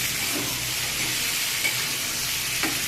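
Taro and papaya sautéing in a pan give a steady, close sizzle that holds evenly throughout, with a couple of faint stirring scrapes beneath it.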